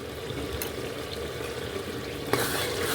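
Ginger-garlic paste stirred in hot oil in a pan while cooking a yakhni pulao: a low steady sizzle with soft scraping, then a brief clatter and a brighter, louder hiss near the end.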